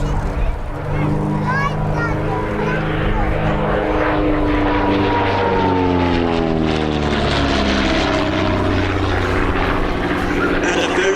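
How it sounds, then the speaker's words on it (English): A highly streamlined de Havilland DH-88 racing aircraft with a very thin wing flies in at a Shuttleworth air display, its loud propeller drone dropping in pitch as it passes close by, while a commentator talks throughout. "that of the DH-88, highly streamlined as it comes in towards the a tiny frontal area"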